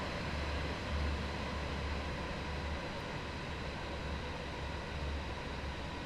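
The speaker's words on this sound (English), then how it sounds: "there's a plane going to cross the land as well" Airplane flying over in Train Sim World 3 on the Brighton to Bedford line near Gatwick Airport, a broad steady roar heard over the continuous rumble and low drone of a Class 700 train in motion.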